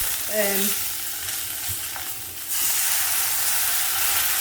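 Fried tomatoes and onions sizzle in a pan for an Indian chickpea curry while being stirred, a steady close hiss with a few brief scraping touches and no voices.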